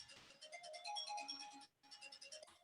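A mobile phone ringtone plays a repeating electronic melody, faint and close, with a brief gap before the tune resumes.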